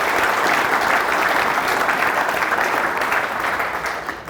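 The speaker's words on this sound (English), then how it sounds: "that is worth applause to all of the team here" Sustained applause from an audience at a company annual general meeting, honoring the construction team; dense, steady clapping throughout that fades slightly toward the end, with no talking over it.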